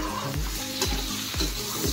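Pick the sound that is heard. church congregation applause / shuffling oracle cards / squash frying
squash frying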